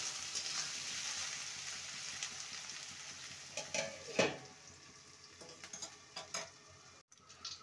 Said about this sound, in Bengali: ভালো করে নেড়ে নিয়ে লো টু মিডিয়ামে রেখে আলুটাকে ভেজে নেব।